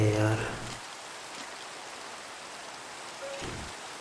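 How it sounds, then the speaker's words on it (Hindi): Steady rain falls in the Minecraft video game, a dense, even hiss that runs for the whole stretch, with a voice talking briefly at the start and again near the end. "ये बरसात को अभी होना था"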